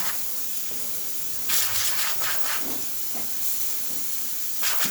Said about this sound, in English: Now, as you can see, steam for this machine, excellent pressure, working amazing